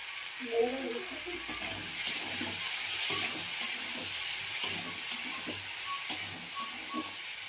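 Spices fry and sizzle in a hot pan after turmeric powder goes in, a soft steady hiss with light stirring clicks and scrapes at a close, even rhythm, low in level.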